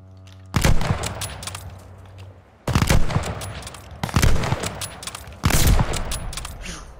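Video game gunfire on Call of Duty's Shipment map: several loud, close bursts of automatic fire with sharp impacts, separated by short quieter gaps.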